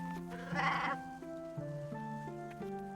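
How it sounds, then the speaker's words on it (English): Sheep bleat in an animated Bible story about a shepherd and his flock, a wavering cartoon bleat repeated in several wobbling cries against a soft musical backing. "Once there was a shepherd with 100 sheep, but he lost one of them."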